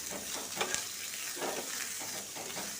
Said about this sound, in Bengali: তেলটা যখন হয়ে যাবে তখন লাউর খোসাগুলোকে দিয়ে ভেজে নেব।